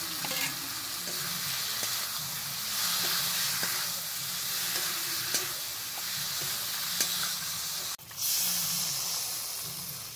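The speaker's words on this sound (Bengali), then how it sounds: "এবার দিয়ে দেবো এর ওপর ভেজে রাখা পটল, তারপরে একটু নেড়ে চেড়ে জল দিয়ে দেবো" Fried pointed gourd stirred into sizzling mustard-poppy spice paste in oil, then water poured in, a continuous close frying hiss with scraping stirs, broken near the end by a sharp surge of steam and sizzle.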